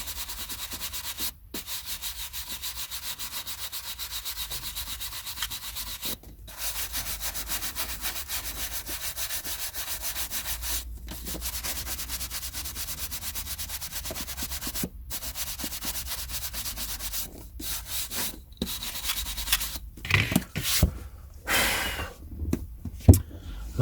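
Vigorous rubbing and scrubbing on a vintage paperback book, close and loud, with rhythmic strokes broken by short pauses and growing more uneven toward the end.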